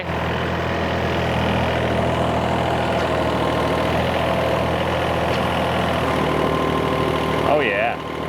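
A flooded excavator's engine runs at a steady, heavy diesel idle, loud and close with a constant low rumble throughout, barely changing before it dips slightly near the end.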